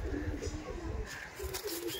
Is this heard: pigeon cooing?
yes